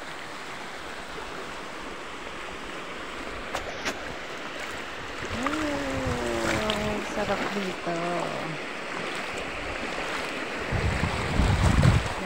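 Sea waves wash along a beach near a resort, a constant broad roar of surf and wind, with someone talking briefly and louder surges near the end.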